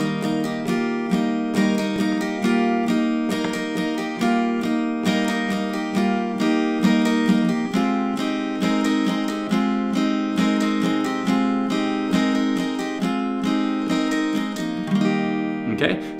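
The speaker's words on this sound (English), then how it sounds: "play those notes while we're doing the chord shapes and while we're doing the strumming" Acoustic guitar strumming chord shapes with the vocal melody notes of a song picked in between, a steady rhythmic pattern of bright strums and plucked single notes, close and clear, with no talking over it.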